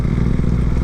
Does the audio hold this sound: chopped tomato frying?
no